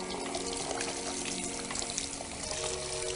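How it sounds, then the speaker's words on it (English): Water runs steadily from a salon tap during hair washing, a soft continuous hiss and splash heard close and quiet with no talk. "we're then going to put on the water. Again, checking the water's okay."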